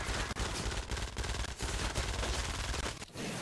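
Rapid automatic gunfire from a Micro Uzi in Fortnite: Save the World rattles almost without a break, dense and loud bursts with only brief gaps.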